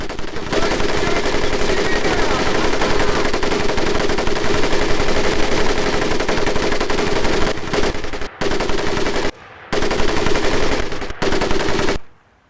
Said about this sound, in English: personal favorite, the M1919A4 30 caliber machine gun